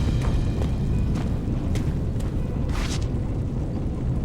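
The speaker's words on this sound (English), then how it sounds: "Sounds like there was an explosion along the tracks" A deep, continuous rumbling roar with several sharp bursts cutting through, a sustained explosion along train tracks in Tales of Arise, loud throughout.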